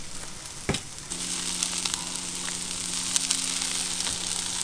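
Food sizzles on a Camp Chef griddle in a close, steady crackling hiss, with one sharp clatter early on and a faint low hum running beneath the frying.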